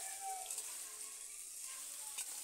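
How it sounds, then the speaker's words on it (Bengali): Flat beans frying with potatoes in a pan give a faint, even sizzle that hisses steadily throughout, with no talking. "এবার কিছুক্ষণ আমি আলুর সাথে সিমগুলো ভেজে নেব।"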